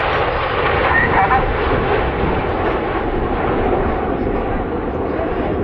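Red Arrows jets flying the 5-4 split manoeuvre at an air display, a distant continuous jet roar rumbling throughout, steady and moderately loud with a faint whine on top.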